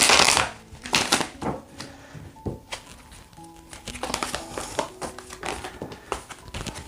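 Cards being shuffled by hand in quick riffling bursts, a papery flutter repeating several times, close by with no voices.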